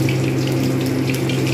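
Panch phoron spices with dried and green chillies frying in hot oil give a dense, continuous sizzle, steady and close throughout.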